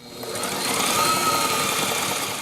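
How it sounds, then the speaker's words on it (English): Sewing machine stitching throw pillow fabric, a steady rapid mechanical whir of the needle running continuously and close, with no talk. "put your foot down, and continue sewing"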